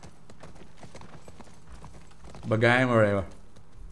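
Hooves of Callus, a horse in the video game The Last of Us Part I, clip-clop in a steady, light rhythm under quiet game ambience, with someone briefly speaking near the end.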